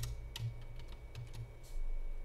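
SQL code being typed on a computer keyboard, heard as scattered, soft key taps in irregular bursts over faint background hiss, fairly quiet and close.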